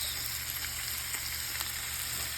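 Sardines and sweet peppers fry in a pot with a steady, even sizzle that holds throughout at moderate loudness, with no voices.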